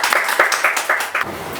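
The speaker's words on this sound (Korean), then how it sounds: "박수 부탁드립니다." An audience claps to welcome poet Lee So-ho onto a radio show stage, a steady patter of applause with rhythmic pulses, fairly loud and close, without talk.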